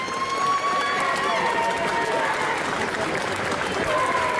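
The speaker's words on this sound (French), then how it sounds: "je vous demande d'applaudir très fort l'ensemble des participants" A large indoor festival audience applauds cosplay contest participants, clapping steadily and loudly throughout, a dense continuous wash of applause with some crowd noise mixed in.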